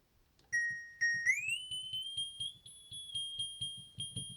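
An analogue synth plays an FM tone with its second oscillator tuned three octaves and a fifth up, a steady bright whistling pitch that sweeps upward and settles over a soft pulsing low rhythm.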